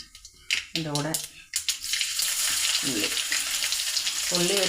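Onion and green chillies fry in hot coconut oil after mustard seeds have popped, giving a continuous crackling sizzle that grows steadier, while a voice talks intermittently over it.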